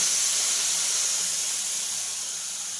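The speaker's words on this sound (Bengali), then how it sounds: "দেখুন এখানে দুধ আমি দিয়ে দিচ্ছি" Pre-thickened milk is poured into a hot pan for semai payesh, giving a strong close hissing steam burst that fades gradually over a few seconds.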